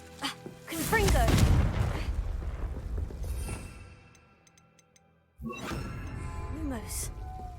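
Confringo blasting spell explosions in Hogwarts Legacy, a sustained crackling, booming burst of fire and debris that fades into near silence before a second blast erupts, with a voice speaking over the action.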